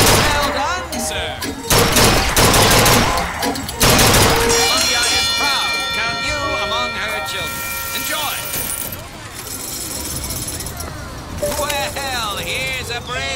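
Gunfire at shooting-gallery targets in BioShock Infinite: several loud, sharp shots in quick bursts near the start, then a steady backdrop of carnival-style game ambience with voices talking throughout.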